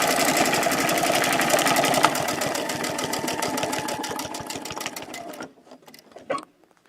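A sewing machine stitches feathers along a quilting template, running as a fast, loud, even whir of needle strokes that gradually slows and then stops, followed by a few faint handling sounds.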